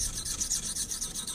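A knife edge being roughed in on the coarse side of an oil or Arkansas sharpening stone, giving a steady close-up gritty rasping scrape that continues without pause.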